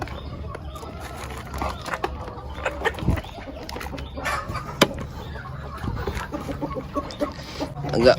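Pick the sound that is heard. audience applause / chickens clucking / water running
chickens clucking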